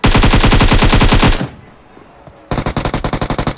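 Automatic gunfire in the mobile shooter game Hackers Ground, loud rapid bursts that stop for about a second, then resume as a fast steady rattle, with no talking.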